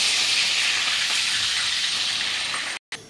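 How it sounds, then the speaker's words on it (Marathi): Garlic cloves frying in hot oil in a mesh strainer, giving a loud, steady sizzling hiss that continues almost without a break and cuts out briefly near the end. "लसूण पण आपला भाजला गेलेला आहे"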